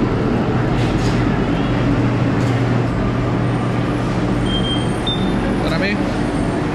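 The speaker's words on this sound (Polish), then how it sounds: "A tam przyjechało metro." A Santiago, Chile metro train pulls into a station, a steady loud rumble and rolling drone with a faint high squeal near the end, heard up close amid the station's ambient noise.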